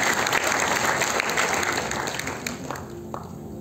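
A church congregation claps together during a Christmas sermon, a dense, sustained burst of many hands that fades gradually toward the end, with faint voices mixed in.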